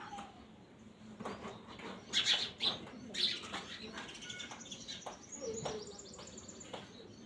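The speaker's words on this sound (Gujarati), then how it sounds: "જો આવી ગઈ ને ચકલી" Sparrows chirp around a sparrow house, several short bright calls scattered through a quiet outdoor setting, with a faint flutter and a voice speaking softly in the background.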